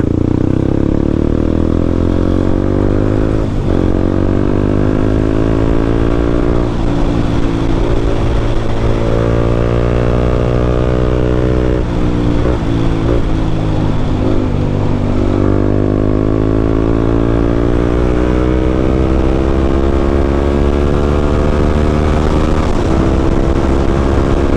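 A Honda CB150X motorcycle runs at top speed, its loud engine drone steady and close throughout with slight pitch swells as the light bike sways in the wind, no voices present.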